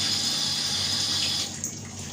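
Tap water running steadily into a sink to rinse fresh strawberries, a close, continuous splashing hiss that softens near the end, with no talk over it.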